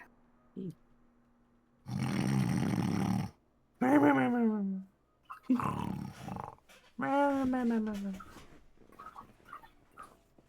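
A voice imitates loud, exaggerated snoring: long rasping inhales and honking, wavering exhales, repeated several times with short pauses between.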